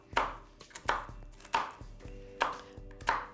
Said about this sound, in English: I'm chopping up this to put on the.